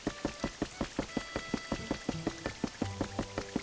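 Rain falls in the video game Pokémon Pokopia as a steady pattering of drops at a regular pulse, with a soft melodic tone joining underneath.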